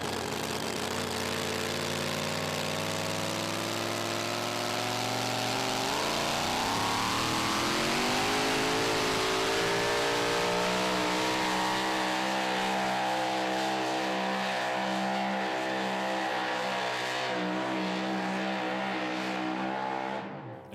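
A super mod two-wheel-drive pulling truck roars at a desert truck pull, its engine revving hard and rising in pitch, then holding a loud sustained drone before cutting off abruptly.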